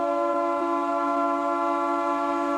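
A conch shell is blown as a call to worship during a church service, holding a single sustained, steady horn-like tone with a bright, buzzing edge, loud and alone throughout.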